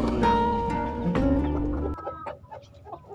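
Hens and a rooster cluck in a chicken flock at a breeding pen, an old brown hen paired with a prize rooster; several overlapping clucks and calls, fairly close, with the dense noise thinning into scattered calls.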